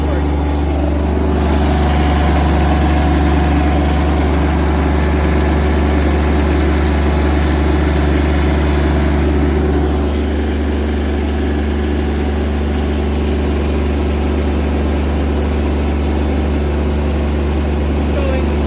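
A log-handling machine at a sawmill log yard drives forward, its heavy diesel engine droning steadily and loudly throughout, with a low rumble and a constant hum, no voices over it.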